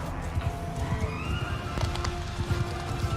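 Horses neigh and whinny amid clip-clopping hooves during mounted combat in Mount & Blade 2: Bannerlord, with repeated whinnies over a busy, steady battle din.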